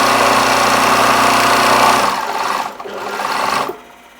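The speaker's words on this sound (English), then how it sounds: "Sew down the long edge of each pair" Loud, close sewing machine whirring steadily along a long fabric edge for about two seconds, then slowing into a shorter burst before stopping.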